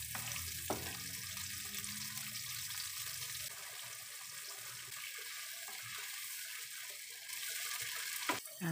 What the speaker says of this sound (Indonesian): Masak cili tu hingga naik minyak.